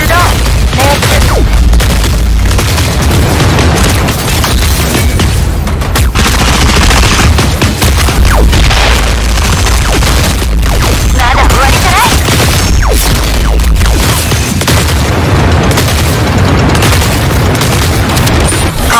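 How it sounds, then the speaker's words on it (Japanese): Gunfire and booming blasts from the mecha battle game Super Mecha Champions, a loud, continuous barrage of shots and explosions over dense game noise, with faint voices underneath. "銃声が聞こえた。"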